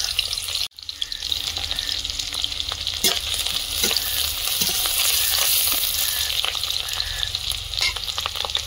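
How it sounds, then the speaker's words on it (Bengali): Onion and chopped green chili frying in oil in a pan before cabbage goes in, a loud, continuous crackling sizzle up close with scattered clicks and knocks of a utensil stirring throughout. "এধারে বাঁধাকপিটা ভাজবো, তেলে একটু পেঁয়াজ দিচ্ছি, কাঁচা লঙ্কা কুচি"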